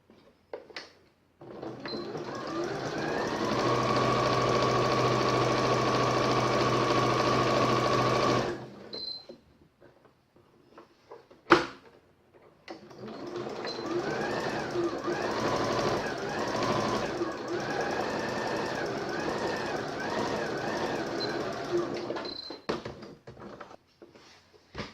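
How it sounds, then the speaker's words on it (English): Domestic sewing machine running seams on fabric for a button-up wallet: two long steady bursts of rapid stitching separated by a pause with small clicks and handling, close and unaccompanied by talk. "so I'm going to sew all the way down to the end and down to the end and only up to this stitch line"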